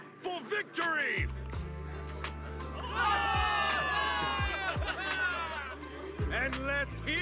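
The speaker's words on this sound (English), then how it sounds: "Give it up for yourselves, soldiers! Cheer for victory!" In Zenless Zone Zero, a crowd of soldiers cheers for victory, a swell of shouting voices that rises midway and mixes with nearby speech.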